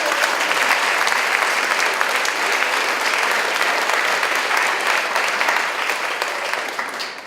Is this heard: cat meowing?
no